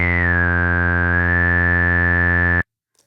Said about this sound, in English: if you bring this resonance up and pull the filter down, you get these nice classic resonant filter sweep sounds